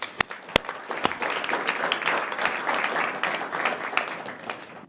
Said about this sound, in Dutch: Mag ik een heel hartelijk applaus voor Floor Alkemade.